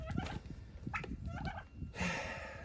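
Turkeys gobbling on a farm, with several short, rough gobbling bursts repeating at close range amid general outdoor noise.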